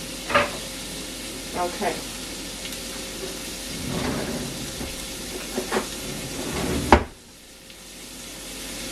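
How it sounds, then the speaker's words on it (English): Ground beef frying in a pan for picadillo, a steady sizzle with spatula stirring scrapes at intervals, close up, a brief word spoken, then the sizzle drops away abruptly. "So as I'm cooking the ground beef"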